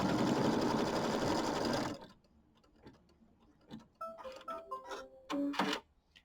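Sewing machine stitching a white pieced quilt block: a loud, steady burst of stitching for about two seconds, then stops, followed by quiet handling sounds and a few short tones.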